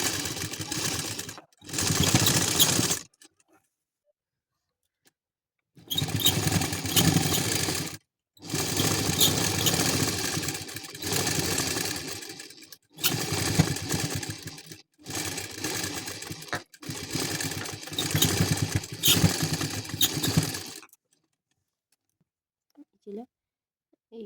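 A sewing machine stitches the neckline of a katori blouse in several loud bursts of steady whirring, separated by short pauses, and then falls quiet at the end.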